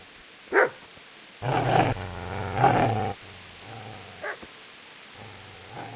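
A dog in Kingdom Come: Deliverance snarls and barks in a few short, rough bursts, close and fairly loud, separated by quieter gaps with low rumbling between.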